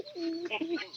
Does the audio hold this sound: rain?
no